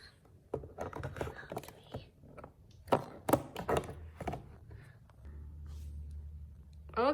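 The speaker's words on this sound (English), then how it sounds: "I'm going to cut off The Spidey." Scissors cut a Marvel Spidey toy figure free of its playset packaging, producing scattered sharp snips, taps and plastic clicks, close and fairly quiet, in irregular clusters with pauses between.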